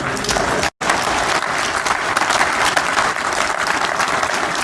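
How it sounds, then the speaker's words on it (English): Church congregation breaking into loud, dense applause during a sermon, a sustained roar of many hands clapping with crowd noise, briefly cut by a short dropout near the start. "Somebody should clap for Jesus."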